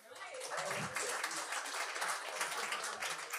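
A Québécois comedy-show audience claps steadily and densely for several seconds, a close, full round of applause filling the room with little else over it.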